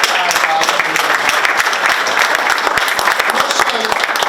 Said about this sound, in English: give yourselves a huge clap for supporting the other